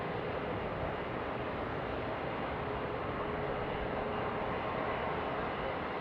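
An Airbus A350 heavy jet arriving at Seattle airport, a steady broad engine roar that holds at constant loudness throughout.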